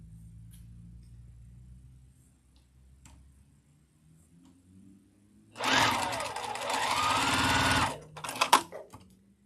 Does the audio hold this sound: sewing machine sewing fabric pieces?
yes